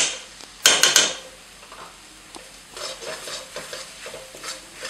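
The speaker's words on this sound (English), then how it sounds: "And I'm going to stir the ghee in." Grated carrots for halwa, dried out after long cooking, get a tablespoon of pure ghee stirred through them in a pan: a quick loud burst of scraping clatter, then softer intermittent scraping strokes.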